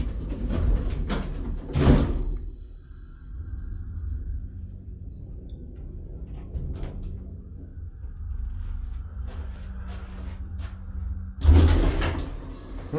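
Sliding door of a Montgomery hydraulic elevator in a public library, with a loud thud as it starts moving, a long quieter low rumble as it travels, then a second loud thud as it closes.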